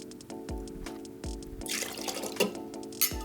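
Beefeater gin poured into a metal cocktail shaking tin, a short splashy glug of liquid hitting metal after a few light knocks and clinks, close and fairly loud with no talk.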